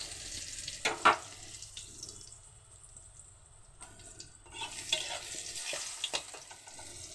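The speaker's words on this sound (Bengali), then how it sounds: "বেগুনগুলোকে একটু ভেজে নেব" Eggplant pieces frying in a pan of hot oil with a quiet, steady sizzle, marked by a few louder crackling bursts near the start and again toward the end.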